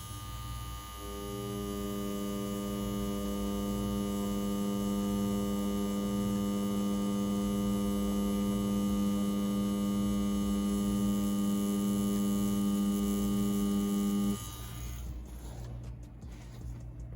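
A CNC WE Plus wireless tattoo machine runs with a steady, buzzing hum for about fourteen seconds, then cuts off abruptly, leaving a quieter background hum.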